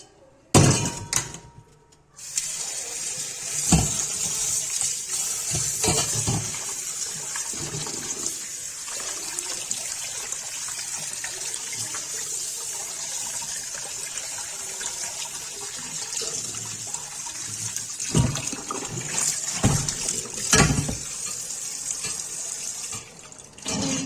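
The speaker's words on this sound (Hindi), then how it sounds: "अब इसको ठंडे पानी में धो के" Chicken liver is rinsed under cold running water from a kitchen tap, a continuous hiss of flowing water with splashing in a sink and brief pauses when the flow stops, close and fairly loud.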